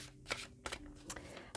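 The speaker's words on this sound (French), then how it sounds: "Je vais prendre 3 cartes" Oracle cards are drawn from a deck in a few quick, soft papery flicks, faint and close, with short gaps between them.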